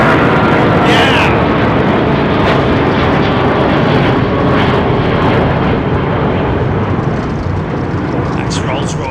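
An airliner with Rolls-Royce engines departing runway 09R at London Heathrow Airport, a loud, continuous jet engine roar close by that stays strong throughout, with people talking over it.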